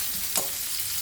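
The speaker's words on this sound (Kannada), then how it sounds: "ಈರುಳ್ಳಿ ಫ್ರೈ ಆಯಿತು." Onions frying in oil in a pan with chana dal for an ivy gourd palya tempering, a steady close sizzling hiss with one brief louder crackle, no talking.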